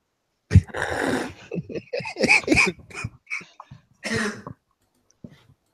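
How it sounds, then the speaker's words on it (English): A series of harsh, raspy coughs and throat-clearing bursts comes close up, then trails off into quiet breathing. "That cough is really, really lingering."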